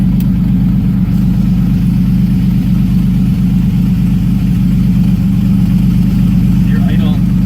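A turbocharged 3400 V6 swapped into a Pontiac Fiero idles close by with a loud, steady, unbroken drone that holds a constant pitch from start to finish.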